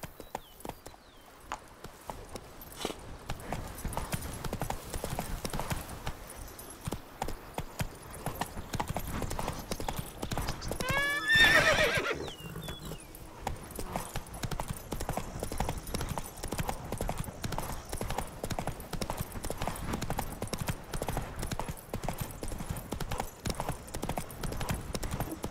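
Roach, a horse in The Witcher 3, gallops with a steady, rapid clip-clop of hooves that continues throughout. A brief whoosh swells near the middle, and a voice speaks faintly now and then.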